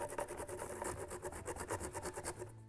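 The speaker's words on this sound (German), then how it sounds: "Ingwer ein bisschen reiben." Fresh ginger rasped back and forth across a grater for a vegetable curry with cashew sauce, a quick steady rhythm of scraping strokes close up with no talking.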